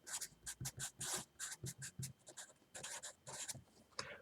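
Marker or chalk writing on a classroom board during a math lecture, a quick series of short scratchy strokes and taps, close and moderately quiet, with brief pauses between bursts and no speech.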